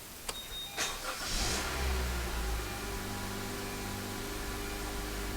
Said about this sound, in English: Now when you start the vehicle up